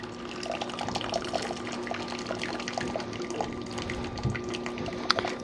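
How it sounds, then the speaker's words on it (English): Water drips and trickles off heavy boiled cabbage held between two big serving spoons over a pot, a steady wet patter with a faint constant hum beneath and no talking. "I'm going to let it drip out a little bit and then I'm going to transfer it on my baking sheet."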